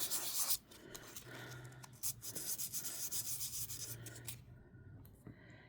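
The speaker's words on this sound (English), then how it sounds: "So I am just going to give a quick light sand on the front." Light hand sanding across the front of a small laser-cut earring piece for a rhinestone wreath design: a steady, soft scratchy rubbing in short repeated strokes, close and quiet, with no talking.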